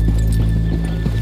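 Horses in the Red Dead Redemption 2 video game give a brief neigh over a steady low rumble. Faint hoof thumps sound close by.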